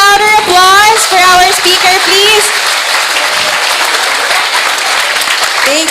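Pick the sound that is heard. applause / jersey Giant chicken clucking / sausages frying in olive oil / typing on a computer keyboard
applause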